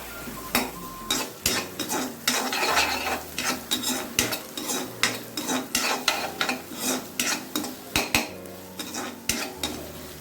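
Chopped onions and ginger-garlic paste sautéing in a pan, with a metal spatula scraping and clanking rhythmically against the pan under a soft sizzle.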